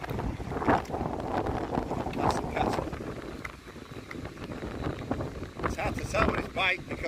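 Gusty wind blowing off the Mediterranean Sea near Oropesa buffets the microphone with loud rumbling bursts during a bike ride, while a person talks through the noise.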